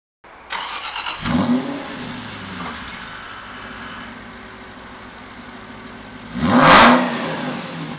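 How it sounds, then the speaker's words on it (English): An Aston Martin V8 Vantage engine cranks and fires up, settling into a deep, steady burbling idle close by, then gives a brief loud rev near the end with no talking. "You hear and feel the engine come to life."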